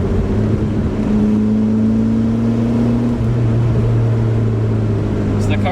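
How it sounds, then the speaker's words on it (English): A 1992 Volvo 240 with a five-speed manual cruising steadily in fourth gear on a back road, engine drone and road noise loud and constant from inside the cabin. "I'm just kind of cruising in 4th gear right now."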